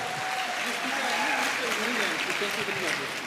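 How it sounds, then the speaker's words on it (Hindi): Audience at an AWPL wellness business event in Nalagarh breaks into steady, loud applause, a dense continuous wash of clapping that holds evenly throughout, with a voice faintly speaking beneath it. "रियल में एक बार मेरे जितने भी गुरुजन जोरदार तालियां"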